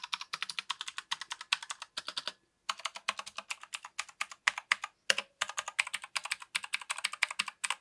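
Fast typing on a Razer Huntsman Mini keyboard with clicky purple switches: dense, crisp clicking keystrokes in bursts with short pauses, close up and alone.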